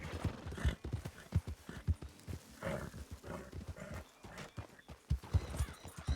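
Horse hooves clip-clop steadily in a RedM roleplay game, a quick continuous trotting rhythm with fairly close, moderately quiet thuds throughout.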